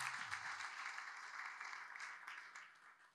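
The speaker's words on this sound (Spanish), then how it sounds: "Denle un fuerte aplauso." Faint applause from a church congregation during a sermon, a steady wash of clapping that holds for a few seconds and fades, distant and low in level.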